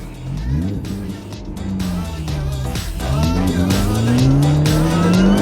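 Mini Cooper S R53 revving hard in wheelspin, its engine note climbing steadily while the tyres squeal beneath it. Loud and close, with the sound building over several seconds.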